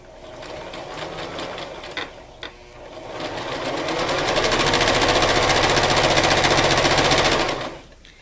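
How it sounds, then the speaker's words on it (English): A sewing machine runs a zigzag stitch in a rapid, even mechanical rattle, starting briefly, pausing, then stitching loudly and steadily for several seconds before stopping. "just use my zigzag stitch since I have my sewing machine set up and ready to go"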